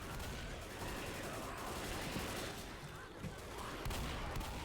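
Dense, continuous gunfire from the Left 4 Dead video game during the Crash Site finale, a steady barrage of shots filling the whole stretch with a faint voice beneath.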